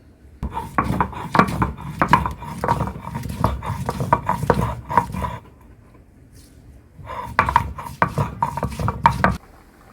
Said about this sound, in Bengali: আর তিন চারটে এলাচ নিছি এটি আমি পাটায় ফিনিশ করে বেটে